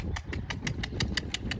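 A motorcycle engine idles steadily by a riverbank road, its low mid-range rumble joined by a regular ticking pulse, close and fairly loud with wind in the background and no talk.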